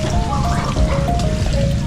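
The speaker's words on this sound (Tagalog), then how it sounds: "Continuous flowing po itong gripo. Kaya po napakaraming tubig." Tap water runs continuously from an outdoor faucet in a Philippine backyard garden, a steady close rushing splash with no voices over it.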